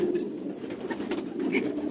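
Racing pigeons coo softly and steadily in a loft, several birds murmuring together at close range with no talk over them.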